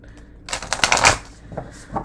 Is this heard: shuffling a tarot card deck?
yes